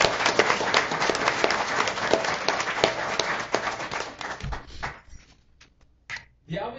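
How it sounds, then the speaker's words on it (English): An audience at a school board meeting gives another round of applause for a euphonium player from the symphonic wind band, a dense burst of clapping that thins out and stops near the end, leaving scattered faint sounds. "How about another round of applause?"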